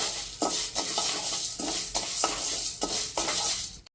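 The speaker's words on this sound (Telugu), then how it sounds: "ఇందులో ఈ మినప్పప్పుని దోరగా వేయించుకోవాలి." Urad dal roasting in a pan on a stove is stirred with a utensil, making rhythmic scraping and rattling strokes roughly every half second over a faint sizzle, close up with no talking.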